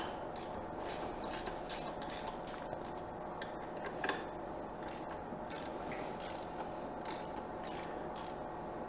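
Mold claws being removed from an APSX-PIM plastic injection machine produce faint, close clicking and ratcheting metal sounds in irregular bursts, with one sharper clank near the middle, over a quiet steady background hum.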